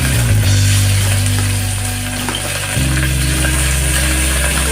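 Cinnamon and cloves hit hot oil for Tamil-style tomato rice, giving a steady, loud hiss and crackle that holds throughout with a low droning rumble beneath, and no voices.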